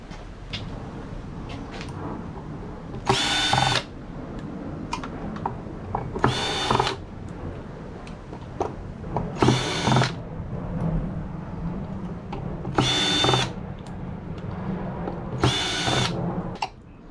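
A power drill with a magnetic screw bit backs screws out of scrapped e-waste, whirring in four or five short, loud bursts between soft clicks and handling noise.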